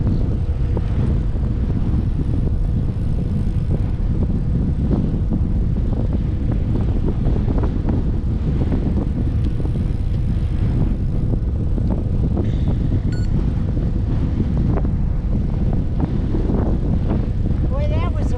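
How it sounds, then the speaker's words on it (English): Strong wind roars across the microphone on the Shark Valley Everglades bike trail, a loud, constant rumbling buffet that persists through the whole stretch. "Real windy. Got windy. Real windy."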